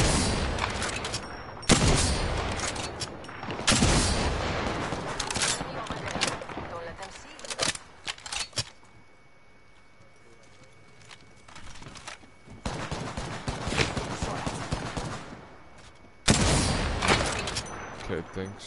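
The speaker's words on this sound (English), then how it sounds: "Shots going." Bursts of gunfire break out in loud broadband clusters separated by a quieter lull, with voices talking between and over the shots.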